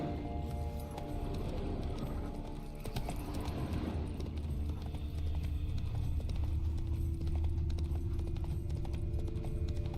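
Horse hooves clip-clopping at a run in the game Witcher 3: Blood and Wine, a steady mid-level drumming of hoofbeats over game ambience, with no speech.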